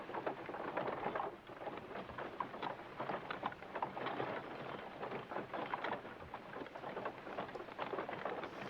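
Steady heavy rain pours throughout a stormy night scene from a period TV drama, with dense broadband hiss and patter and faint low rumbles of thunder underneath, no voices.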